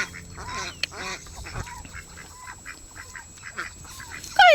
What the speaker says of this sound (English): Goofy ducks.